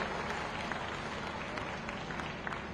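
A large crowd applauds to welcome and congratulate a guest at a Mahakumbh gathering, the clapping dense, steady and fairly faint, sustained throughout without a break.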